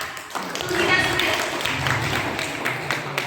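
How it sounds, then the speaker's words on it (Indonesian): Audience at an HKBP church men's gathering clapping during a music quiz contest, a steady burst of applause running under nearby talking voices for a few seconds. "Tepuk tangan kita."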